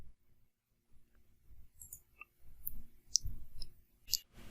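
Computer mouse clicks while finishing a software installer for an MP3 tagging program, a few sharp, faint, isolated clicks spaced irregularly over quiet room noise with no talking.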